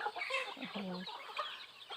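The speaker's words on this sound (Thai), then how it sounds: "เนี่ยไก่ ไก่พันธุ์พื้นเมือง เยอะเลยเจ้า" Native breed chickens cluck repeatedly on a northern Thai village farm, a close, busy flock of short calls and one drawn-out cackle over faint background chatter.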